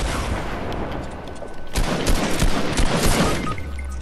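Gunfire in a Fortnite match, including a sniper shot, sounds as a burst of sharp cracks and rattling shots layered over dense game noise, loud and close, with no voices.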